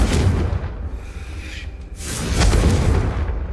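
A Confringo blasting spell goes off in Hogwarts Legacy, two rumbling whooshing blasts about a second apart, the second one stronger and longer.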